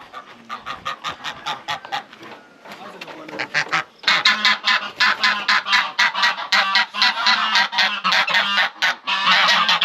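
Geese honk repeatedly in a Ugandan village yard, a loud rapid series of calls that grows denser and closer after a brief pause, with several birds calling over one another.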